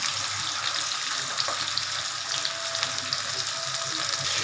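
A steady, soft sizzle of crushed garlic and onion frying in hot oil, with faint crackles and pops and a light clink now and then.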